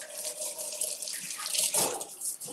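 A kitchen tap runs steadily into a sink during handwashing, a continuous close hiss of flowing water with slight splashing changes as hands move under the stream.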